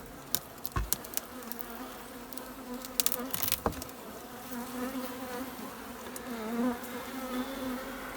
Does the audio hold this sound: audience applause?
no